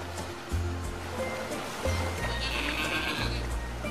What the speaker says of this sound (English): You were expecting a horse, but you got a goat